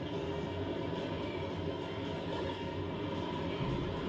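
In the Donkey Kong Country Returns cave level, a mine-cart train rumbles along its track with a continuous, dense rolling clatter that holds steady at moderate volume throughout.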